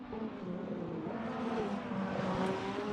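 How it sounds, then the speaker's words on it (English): Race car engines roar in a racing video game, including a V8 Camaro, a loud continuous revving whine with shifting pitch and no talk over it. "the sounds of the engines of different cars roaring."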